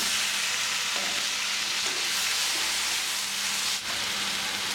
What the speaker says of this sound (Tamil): இப்போ தக்காளி போட்டு நல்லா மசிகிற மாதிரி வதக்கி விட்டுருங்க